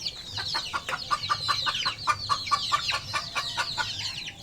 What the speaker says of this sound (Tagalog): Itong lahi nitong mga sisiw kong ito, pure talaga ito, pure na native.